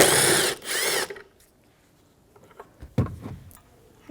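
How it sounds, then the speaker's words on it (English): Ratchet with an 8mm socket backing out tail light bolts on a 2011-2017 Honda Odyssey: two quick bursts of close clicking ratchet strokes, then quiet with a few light handling knocks. "it's an 8mm socket, we're going to just take them right out"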